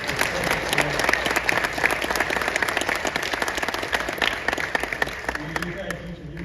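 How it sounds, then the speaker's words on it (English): A crowd at a candidate forum for South Carolina Commissioner of Agriculture claps steadily, dense and sustained applause filling the room for several seconds before tapering slightly. "we need to give them a round of applause."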